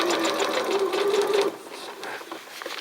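A sewing machine stitches elastic in a fast, even whirring run for about a second and a half, then slows to a few quieter stitches and handling noises.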